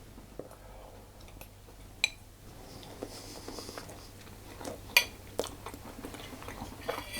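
Someone nearby chews soft Lazy Daisy cake with caramel coconut topping, making quiet moist smacking and faint crunchy bites with scattered clicks, close and low.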